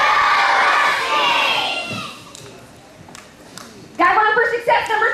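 Students at a school morning meeting let out a big husky cheer, loud crowd shouting and cheering that fades, leaves a quieter gap with scattered voices, then bursts up again briefly.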